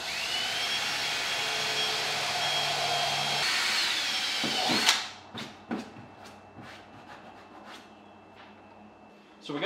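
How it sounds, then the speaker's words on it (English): A power drill whines loudly and steadily for several seconds drilling holes in a kayak hull, then stops, followed by scattered clicks and knocks of handling nearby. "Now let's drill some more holes in the boat."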